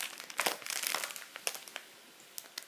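Close, soft crinkling of a plastic rice packet, irregular bursts of crackle that thin out into scattered small rustles.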